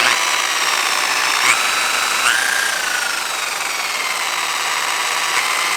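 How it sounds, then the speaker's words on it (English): A DeWalt variable-speed polisher runs steadily on its third speed setting during plastic repair, giving a loud, close, continuous motor whine with slight pitch shifts and no talk. "So we're on level 3 with the polisher."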